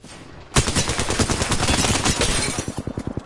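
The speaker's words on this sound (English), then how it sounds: "These guys are shooting me from mad far away." Rapid automatic gunfire from the battle royale game Apex Legends bursts in loudly after a brief quiet moment and continues as dense, rattling volleys that turn into distinct single shots near the end.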